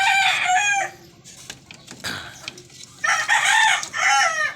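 A Boston Roundhead gamecock crows loudly and close by, a full cock-a-doodle-doo at the start and another near the end, with clucks and shuffling in between.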